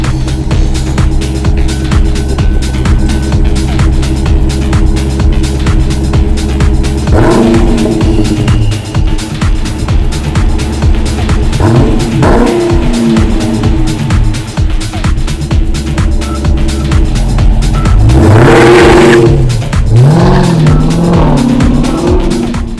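Dodge Daytona 392 V8 with muffler and resonator deleted, idling with a loud steady exhaust drone, then revved in several sharp blips, the last one the longest and loudest, close to the car with no talking.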